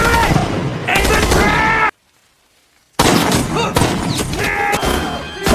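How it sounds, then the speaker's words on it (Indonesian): Loud bursts of gunfire and thumping impacts from a war film battle scene, broken by a second of silence before the shooting resumes in heavy, overlapping volleys. "Baku tembak pun terjadi sampai datangnya kabut memaksa Oba untuk mundur"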